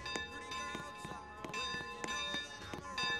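Train bell in the Roblox video game, dinging repeatedly in a steady rhythm with sustained ringing tones, fairly quiet and mixed with other game sounds.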